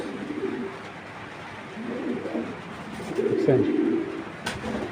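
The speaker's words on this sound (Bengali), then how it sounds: "এটা একটা ব্রিডিং কবুতর" Breeding pigeons of the Python racing breed coo in low, throaty rolls, close by in a loft, while someone speaks briefly over them.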